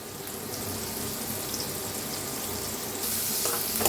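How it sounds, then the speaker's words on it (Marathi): Chopped onion frying in a pan with cumin, mustard seed and asafoetida for amti, a dense continuous sizzle up close that grows slightly louder near the end. "तर कांद्याला मी भाजून घेऊया"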